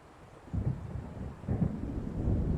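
Deep rolling thunder from an approaching storm in the video game Alan Wake rumbles in two low swells over a faint rain background, with no voices.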